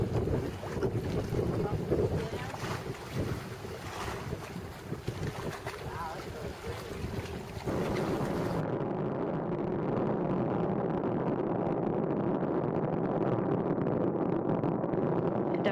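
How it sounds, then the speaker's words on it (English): Space shuttle climbing through maximum aerodynamic pressure after launch from Kennedy Space Center, a steady, loud, broad roaring rumble with wind-like buffeting that continues throughout. "Throttling down as the orbiter passes through the area of maximum pressure on the vehicle"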